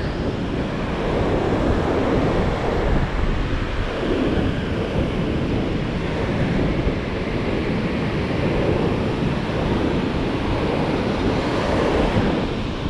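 Ocean surf rolls steadily onto a beach on South Africa's Suncoast, a dense continuous roar mixed with wind buffeting the microphone, with no voices.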